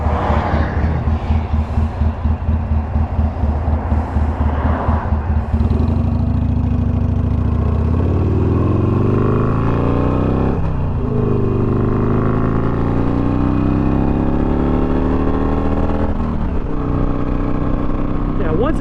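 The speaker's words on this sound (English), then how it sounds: "The Two Brothers exhaust for this bike is a thumbs up for me." Harley-Davidson Sportster motorcycle fitted with a Two Brothers Racing Comp-S 2-into-1 exhaust, loud and close throughout, opening with a pulsing idle and then revving and pulling hard through rising gears during the ride.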